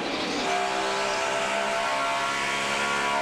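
A NASCAR stock car running on a lost cylinder at Dover International Speedway in the 2007 Autism Speaks 400, its engine drone rough and continuous, loud and close as it passes, with no talk over it.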